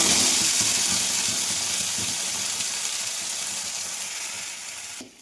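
Mashed green peas frying in hot oil with turmeric and mixed vegetable spices in a home kitchen, a steady close sizzle and hiss that slowly eases over several seconds with no one talking.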